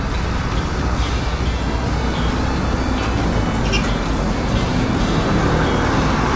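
Dense, steady roadway rumble of trucks and other vehicles moving through busy city traffic, a constant loud low drone with no clear gaps between passes.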